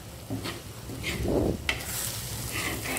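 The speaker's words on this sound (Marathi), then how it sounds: "आता हे पूर्ण मिश्रण मिक्स करून घ्यायचं आहे." Paneer bhurji being stirred in a pan, a faint frying sizzle under soft scraping and rubbing of a spoon through the mixture, with an occasional light clink.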